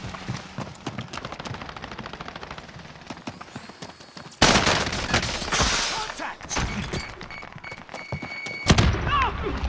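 Gunfire in Call of Duty Warzone arrives as bursts of sharp shots over a busy game mix, with a much louder volley midway and scattered reports after it, while players talk throughout.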